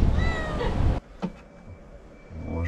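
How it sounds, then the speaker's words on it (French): A little cat at a building renovation site lets out a close, insistent meow that cuts off abruptly, leaving a quiet room with a faint click and a soft second cry at the end. "Petit chat de chantier."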